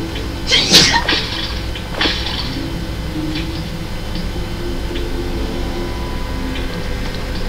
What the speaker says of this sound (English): If you heard a sneeze, that was my sister,